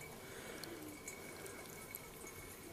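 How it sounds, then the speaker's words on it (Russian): Water poured off from a jar after washing material, a faint, steady trickling wash with small splashes, quiet and continuous with no talking. "просто нам нужно слить сейчас воду."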